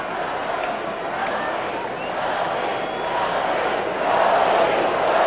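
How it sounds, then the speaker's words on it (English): A baseball stadium crowd at a 1998 Mariners vs Yankees game in Seattle keeps up a dense, steady roar that swells louder near the end as the fans grow livelier. "Crowd getting a little more lively now that the Mariners have put a couple of runs on the board here in the 6th inning"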